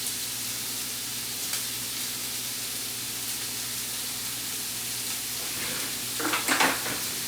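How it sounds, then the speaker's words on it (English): Steak medallions sizzle steadily in a hot pan with a close, even hiss, and a brief burst of louder spattering crackle comes near the end. "while you watch your steak cook"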